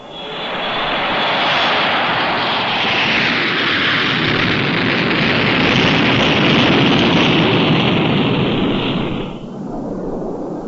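XB-70 jet engines at high throttle roar as the bomber pushes to Mach 1.6: a loud, steady, broadband rumble with a hissing upper edge that holds for about nine seconds and then eases slightly at the end.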